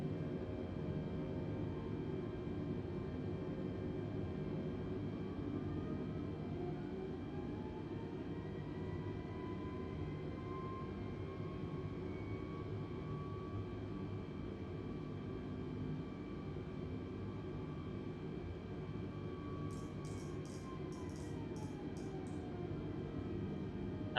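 Aircraft flaps extend to stage 1 in Microsoft Flight Simulator 2020, a thin mechanical whine rising and holding over a steady, droning engine hum in the cockpit, then gliding back down.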